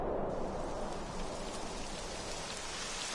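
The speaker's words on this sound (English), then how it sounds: "It would have to go and start raining, wouldn't it?" Rain falling in the video game Dragon Quest XI, a steady dense hiss of drops landing on surfaces, even and continuous throughout with no talk.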